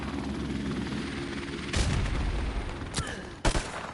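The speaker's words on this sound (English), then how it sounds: "the helicopter in this game, they love me so much" A helicopter in the Call of Duty: Modern Warfare Remastered video game, a loud continuous rotor roar filling the scene, broken by sharp bursts of gunfire and impacts, with no talking.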